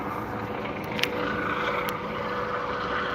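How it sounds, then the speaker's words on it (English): A helicopter comes in to land, its rotor and engine making a steady, fairly loud droning whir with a couple of faint clicks over it and no speech. "we'll just let this helicopter land for a second."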